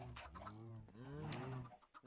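Chickens cluck and squawk on a chicken farm in the Minecraft modpack FTB Ultimate 1.4.7, a short game sound of a few overlapping calls, close and clear with no talking.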